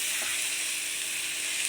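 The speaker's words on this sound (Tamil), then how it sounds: "இப்போ ஆனியன் டொமேட்டோ எல்லாம் நல்லா வதங்கிருச்சு" Onions and tomatoes fry in a pan for an egg bhurji gravy, giving a steady, close sizzle that holds evenly throughout with no voices.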